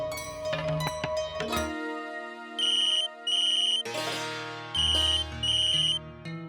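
A telephone ringtone in a Hindi family drama scene, four short electronic melodic rings arriving in two pairs, loud and close, with background music and ambience around them.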